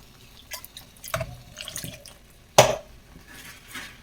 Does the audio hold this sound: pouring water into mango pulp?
yes